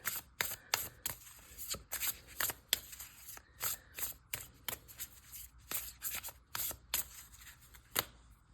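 Tarot cards being shuffled close up, a rapid series of crisp riffling bursts repeating steadily with short pauses between, no talking.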